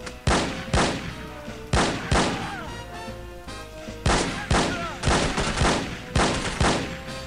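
Gunfire in the video game No One Lives Forever, with repeated loud bursts of shots in irregular clusters over a steady game soundtrack, close and punchy.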